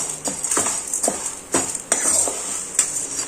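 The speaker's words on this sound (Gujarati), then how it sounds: "આ રીતે ઘીમાં આપણે સાબુદાણાને બેથી ત્રણ મિનિટ માટે શેકી લેવાના છે સાતળી લેવાના છે" Sago pearls roast in ghee in a pan while a metal spoon scrapes and clinks against it in quick repeated strokes over a faint hiss, close and fairly loud.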